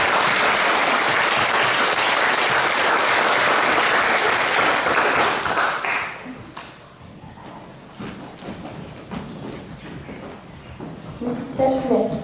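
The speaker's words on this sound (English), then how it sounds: "Let's give these award winners a round of applause." A full room claps for award winners at a school presentation day, loud steady applause for about six seconds before it tapers into scattered claps, bumps and faint voices.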